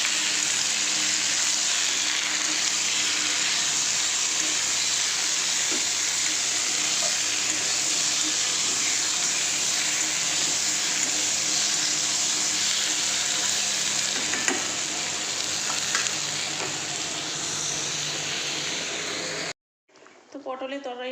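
Potatoes and tomato fry in a pan with bay leaf and dried chilli, a steady loud sizzle with occasional stirring scrapes running nearly throughout before cutting off briefly near the end.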